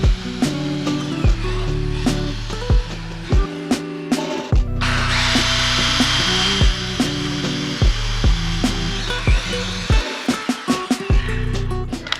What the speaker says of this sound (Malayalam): ഇനി ഇത് നമുക്ക് ഡ്രില്ല് ചെയ്ത് നോക്കാം.